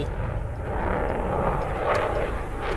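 A steady, rumbling aircraft engine drone in the video game Gunner, HEAT, PC! roars continuously, loud and broadband, like a plane passing close overhead before dropping bombs.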